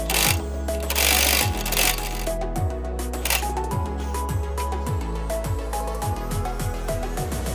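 Removing the end link bolt on an Audi A4 with a 16 mm tool: a close, rapid mechanical ratcheting rattle with repeated sharp metallic clicks, in bursts of rhythmic pulses.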